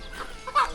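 A chicken gives a short cluck in a remote hill village without electricity where villagers are catching and tying chickens, a brief, fairly faint call over quiet outdoor background.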